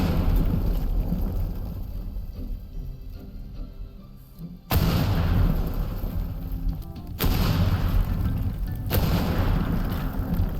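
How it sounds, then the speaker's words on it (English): Heavy nitroglycerin blasts demolishing a building in the video game Teardown, with loud broadband booms and rumbling collapse, a big explosion near the midpoint followed by further blasts, dense and continuous throughout with no talk. "I could start putting down nitroglycerin to blow up the building."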